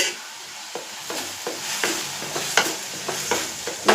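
Prawns sautéing in a pan with chopped tomato, a steady sizzle broken by repeated scraping stirs of the spoon at a close, moderate level.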